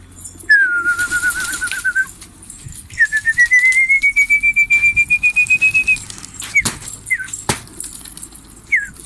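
Fantail pigeons give a series of rising whistled calls and soft cooing, with fluttering and clattering noises nearby.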